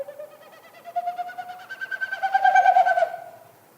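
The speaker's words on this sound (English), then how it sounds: "it pushes air through the stiff outer tail feathers, and it makes that woo, woo, woo, woo, woo kind of sound" A bird in Yellowstone makes its courtship winnowing by forcing air through stiff outer tail feathers with its wing-beats: a rapid, pulsing, hollow woo-woo that rises in pitch and loudness, then fades away. It is heard alone.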